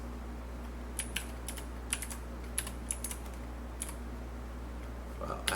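Keyboard typing on a computer, a series of sharp, irregular key clicks spread across several seconds over a steady low background hum, with faint sounds near the end.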